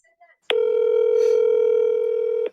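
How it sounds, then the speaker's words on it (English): A phone call's ringing tone, one steady unbroken electronic tone holding for about two seconds, loud and close, cutting off cleanly, with faint sounds just before it starts. "Pick up the phone, Joseph."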